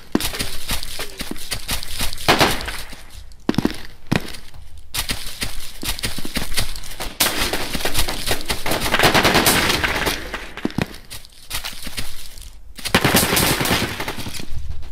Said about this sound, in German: der Typ schießt offensichtlich mit dem Sniper beim Hüpfen